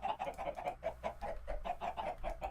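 Chickens in the Minecraft modpack Agrarian Skies cluck repeatedly in a steady pecking rhythm, close and moderately loud over a low background hum, with no talking.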